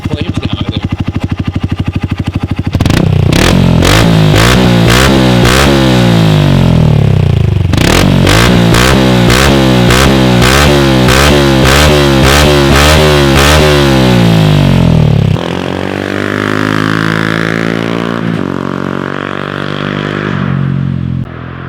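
A 2021 TC 125 pit bike with a modified exhaust revs hard and loud, its engine note repeatedly climbing and falling in a series of rapid barking revs that ease off to a steadier idle-like drone near the end.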